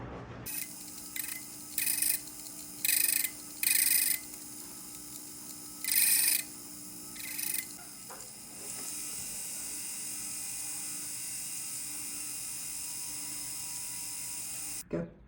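A rotary tool carves a turquoise stone set in a bracelet into a triangular shape, whining in several short high bursts before settling into a steadier, fainter grinding hum.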